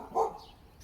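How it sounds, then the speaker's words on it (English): A neighbor's dog lets out a single short, fairly close bark, followed by quiet background. "My neighbor dog."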